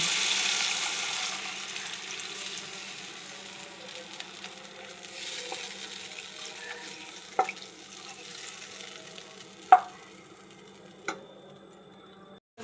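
Water is poured into a pan of cooked-down tomatoes with salt, giving a brief rushing splash at first that settles into a soft simmer broken by a few sharp clicks.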